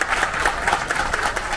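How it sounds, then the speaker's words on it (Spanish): A crowd claps steadily at an outdoor social inclusion event, fairly close and moderately loud, the applause a brisk continuous patter with a faint voice beneath. "Un aplauso fuerte"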